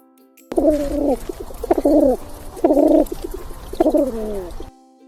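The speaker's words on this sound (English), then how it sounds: "Pigeon says, "Goo true goo," A pigeon coos four times in a steady, evenly spaced rhythm, low and throaty, close by with faint background hum.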